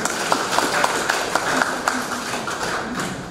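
An audience applauds at the inauguration of a vocational high school, with a dense, even patter of many clapping hands and a few sharper nearby claps standing out.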